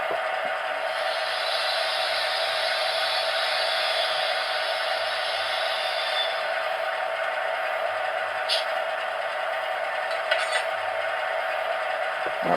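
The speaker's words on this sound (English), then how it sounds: "function 8 is uncoupling and brake disconnect and vac destroyed." Bachmann Class 45 model diesel locomotive with sound decoder, playing its uncoupling, brake disconnect and vacuum release effect: a steady loud hissing rush of air lasting several seconds under a continuous engine hum, with faint talk.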